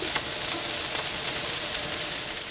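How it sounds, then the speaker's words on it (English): Vegetables sizzle loudly in a pan on the grill as they are stirred and flipped, a dense, continuous frying hiss with small scraping pops and no voices. "So I'm giving this a stir, but I want to show you a quick chef trick. Give it a nice little flip."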